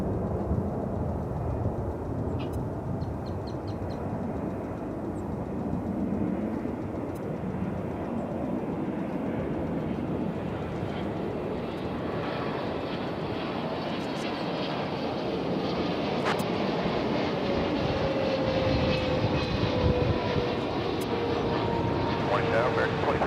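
Airliner arriving on runway 18 left at DFW Airport, a steady, loud broadband roar of jet engines that swells slightly toward the end, with a faint whining tone near the close.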